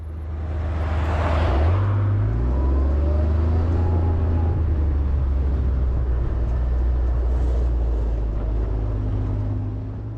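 An off-road vehicle drives across a highway near Quartzsite with a loud, steady engine drone and low rumble close by. A brief rise in engine pitch comes early, and no one speaks.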